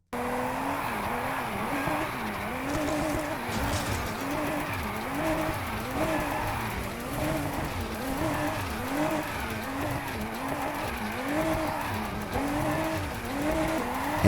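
A 1965 Ford Mustang with a forged 3.8-liter twin-turbo V6 and 4-speed drifts in NFS Heat, its engine note rising and falling steadily alongside continuous tire squeal, loud and sustained throughout.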